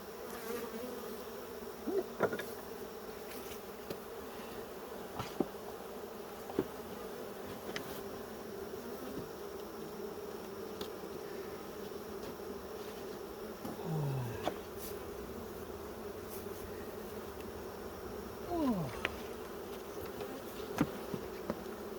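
Honey bees hum around an opened beehive during an inspection, a steady close drone with individual bees buzzing past now and then, plus a few faint clicks.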